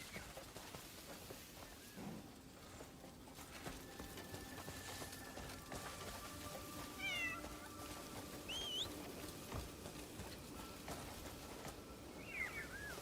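A cat meows several times in the Crimson Desert video game, rising, wavering calls spaced apart over steady game ambience and background music.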